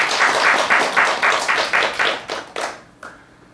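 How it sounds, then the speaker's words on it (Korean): An audience at a philosophy lecture claps steadily for several seconds. The rhythmic applause is fairly close and clear, then thins to a few last claps and fades out. "우리 윤 선생님을 위해서도 여러분 박수 한번 부탁드립니다"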